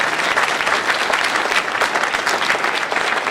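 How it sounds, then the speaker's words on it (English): A crowd at a State of the Economy address applauds the chair with loud, dense, steady clapping that fills the whole moment without a break. "Can we give our chair another round of applause?"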